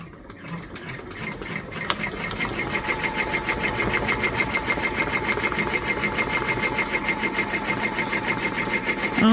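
A Brother PR1055X embroidery machine stitches out a design with a steady, rapid mechanical chatter close by, its rhythm speeding up and growing louder as it runs, with no talk over it.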